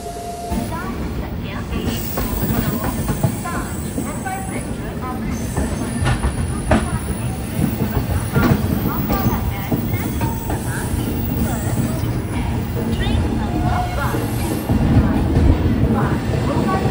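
A Rajdhani express train rolls out of Shivaji Bridge station, with a continuous loud rumble of wheels on track, rhythmic clatter and occasional squeals throughout, with faint voices in the background.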